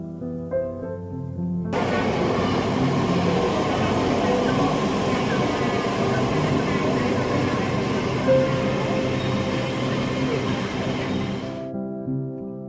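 A high-speed train in China roars past, a loud broadband rush that swells in abruptly, holds steady for about ten seconds, then cuts away.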